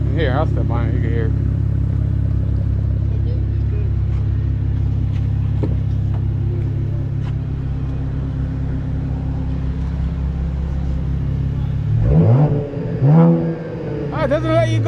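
A Cadillac ATS-V twin-turbo V6 rumbles at a steady, loud idle, then gets a few short, sharp revs near the end; a voice speaks briefly near the start.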